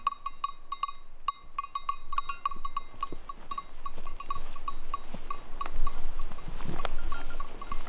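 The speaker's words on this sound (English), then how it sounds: "waking up to the local farmer's sheep is witnessing that we are far from home" A local farmer's sheep in the Norwegian mountains, with bells clinking in a steady, irregular jingle close by and occasional soft animal sounds, in a quiet outdoor setting without talk.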